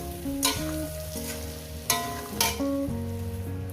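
A katla fish head with crushed ginger sizzles in a pan for a spinach chorchori, a bright crackling hiss with a few louder bursts, heard beneath prominent background music.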